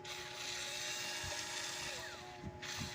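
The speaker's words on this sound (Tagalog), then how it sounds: "ang aking portable drill" A small portable 6-volt drill, charged over USB, runs steadily. Its whirring motor drone is close and continuous, with a few faint knocks partway through.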